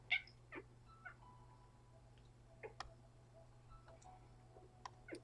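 An indoor cat lets out a meow, then several more short, scattered meows and soft clicks spread over a few seconds, faint against a steady low hum.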